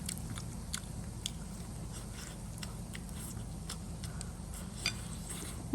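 Someone bites and chews a hot, crispy fried pumpkin cake with a crisp outside and tender inside, giving close, irregular crunchy bites and chewing clicks with no talk.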